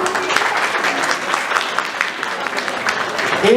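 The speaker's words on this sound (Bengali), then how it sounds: "সাজ্জাদ ভাইয়ের জন্য একটা করতালি" An audience at a stage drama performance breaks into dense, sustained applause, many hands clapping together at close range for several seconds with faint crowd noise underneath.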